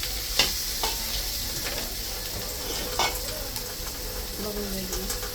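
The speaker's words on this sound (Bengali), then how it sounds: "মশলাটা ভালো করে কষানো হচ্ছে" Spice masala stirred and sautéed in a pan after water is added, for a Bengali aloo dum: a steady soft sizzle under occasional clinks and scrapes of the spoon, close and moderate, with no talk.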